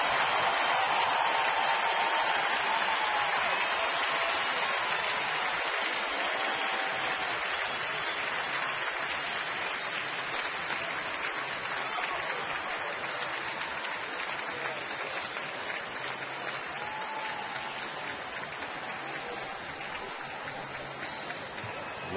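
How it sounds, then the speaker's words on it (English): A baseball crowd at a ballpark applauds an injured player in a steady, dense wash of clapping and cheering that holds for over twenty seconds, with a commentator's voice faintly underneath. "give him a large round of applause"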